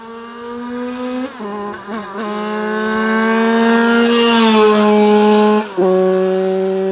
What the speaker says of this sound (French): Ça fait un bruit de cross, gros.